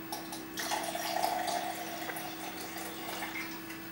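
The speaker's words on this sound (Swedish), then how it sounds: "Sen håller jag i lite gin." Gin is poured into a cocktail being mixed at home, a short, close liquid stream that swells and trails off into a soft trickle.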